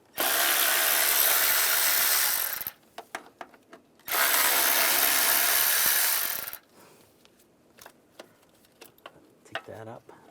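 Power ratchet with a 10mm socket spinning out bracket bolts on a 2011-2018 RAM 1500 3.6L V6 during a spark plug job, two loud sustained buzzing runs of a few seconds each, separated by clicks and tool handling noises.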